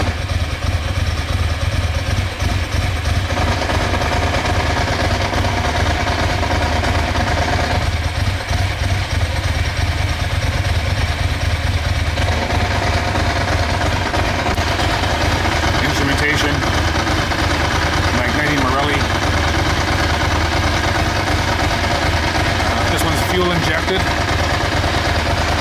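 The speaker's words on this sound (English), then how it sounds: "You'll hear the clatter from the dry clutch." A Ducati SuperSport 1000 DS motorcycle idles steadily nearby, its dry clutch adding a continuous metallic clatter over the engine throb, with someone talking over it throughout.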